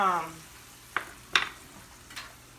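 Flour cooking in sausage grease for gravy gives a soft, quiet sizzle, punctuated by three brief scraping stir strokes in a pan.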